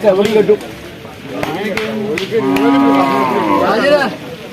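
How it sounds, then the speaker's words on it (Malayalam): Cows moo loudly nearby at a market, several long drawn-out lows overlapping, with people talking in the background between the calls. "പൈക്കളുണ്ട് പശുണ്ട് മോരിയുണ്ട് മോരിക്കുട്ടികളുണ്ട്"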